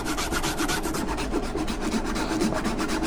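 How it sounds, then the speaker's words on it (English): Ginger grated on a grater, a close, continuous rasping scrape in quick regular back-and-forth strokes, fairly loud with no talk. "I'm just gonna go ahead and grater a good amount of ginger"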